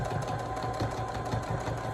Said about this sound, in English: So I'm back stitching all the way back.